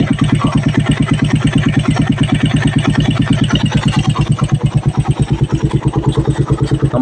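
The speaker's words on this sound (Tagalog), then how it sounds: "Kapag ganyan tunog ng motor nyo mga ka-raider, tapos mainit na yung makina, wala sa tono yun." A cold motorcycle engine idles out of tune, its carburetor knocking in a fast, steady, loud putter that runs throughout, close to the bike.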